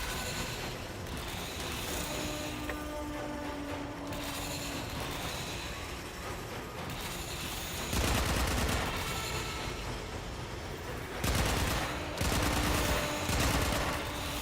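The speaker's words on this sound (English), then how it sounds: "I don't know why I'm shooting" Gunfire in the video game Warframe, sustained mechanical rattling bursts that grow louder and denser in the second half, with no talk over it.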